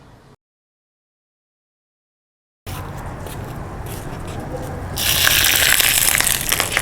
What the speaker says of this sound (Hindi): तो भाई अब डालते हैं इसको हम लोग मार्बल्स पे।